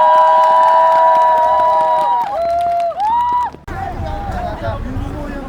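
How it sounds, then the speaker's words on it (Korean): Crowd at a street-opening ceremony in Jeomchon, Mungyeong, cheers with sustained shouts for the mayor, then the sound shifts abruptly to a lower, murmuring babble of voices. "다시 한번 시장님께 박수 부탁드립니다"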